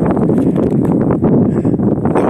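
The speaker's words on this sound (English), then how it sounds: "The wind is still strong." Strong wind buffets the microphone on a desert ridge in Death Valley, a continuous loud rumbling roar with gusty fluctuations and no pauses.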